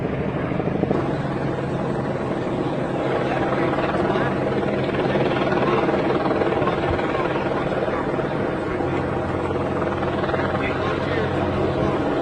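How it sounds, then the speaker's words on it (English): A helicopter flies overhead during a police encounter, its thudding rotor drone steady and fairly loud throughout, with someone talking over it at times. "There's a helicopter going."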